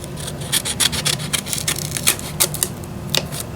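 Scissors snipping through paper in a nomad-style journal, a run of quick close cutting and rubbing strokes, crisp and brisk, with no talking.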